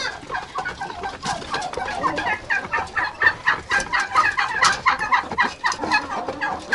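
A hen clucks loudly and repeatedly after laying an egg in a backyard poultry yard with turkeys, a rapid rhythmic cackling series up close with no talk.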